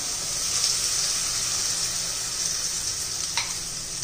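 Mung dal batter with sesame seeds sizzles steadily in a hot pan for a healthy breakfast dish, a continuous close frying hiss with a brief sharp crackle near the end.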